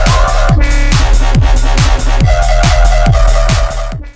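A UK bassline synth bass from a remix pumps in loud, punchy notes about every third of a second, with pitch-dropping kicks and a growling midrange, playing alone without talk.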